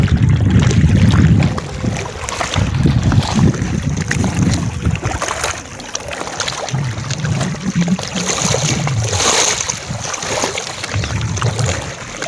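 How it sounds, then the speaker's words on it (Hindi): Water flows and splashes steadily at a rural village, with a continuous rushing murmur and gusts of wind buffeting the microphone. "और देखिए यहाँ पे पानी की आवाज़ कितनी सुंदर, रियल में आवाज़ सुनिए आप, महसूस करिए उसको।"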